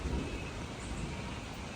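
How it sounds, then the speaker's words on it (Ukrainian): Distant thunder from a passing rainstorm rolls as a low, continuous rumble, fairly faint and steady throughout with no voices over it. "Ще далеко гримить."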